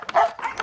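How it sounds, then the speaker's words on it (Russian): Short, lively barks and yips from a playful dog, two or three quick bursts up close, with a person's voice briefly mixed in among them. "Ой, веселый пес."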